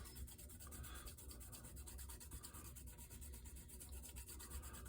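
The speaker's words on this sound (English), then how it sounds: "just lightly sand." Fine 1500-grit sandpaper rubs lightly and continuously over the plastic body of an AMT 1960 Ford Starliner model car, a soft steady scraping with quick back-and-forth strokes, faint and close, with no voices.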